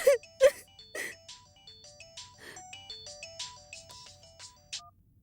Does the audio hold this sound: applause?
no